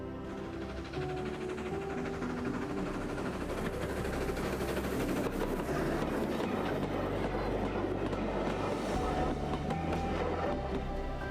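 A train on the Meon Valley Railway rolls past over a bridge, its wheels beating a steady clickety-clack over a continuous rumble that stays loud and close throughout.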